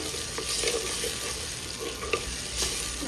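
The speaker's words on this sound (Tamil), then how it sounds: "வெங்காயம் தக்காளி நல்லா வதங்கட்டும்" Onions and tomatoes sautéing in a clay pot for a fish curry, a soft steady sizzle with a few faint stirring scrapes, fairly quiet and with no voices.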